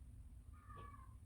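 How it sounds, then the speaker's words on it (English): A cat meows once outside, a single faint, drawn-out call rising over a quiet room hum. "That's a cat outside."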